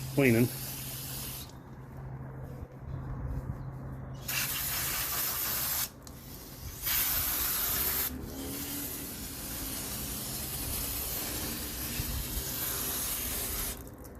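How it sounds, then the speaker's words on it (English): Cleaner is sprayed onto the rear parking brake shoes of a 2015 Toyota RAV4 in several close, hissing bursts of varying length separated by short pauses, with faint background noise in between. "I'm gonna just real quick give these parking brake shoes some cleaning"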